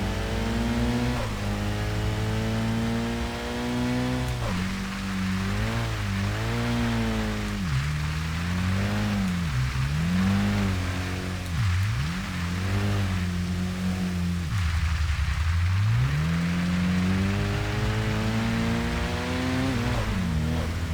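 Car engine in the racing video game Kaido Racer 2 revving and accelerating hard past a rival, pitch climbing repeatedly through gear changes with short dips between, loud and continuous throughout.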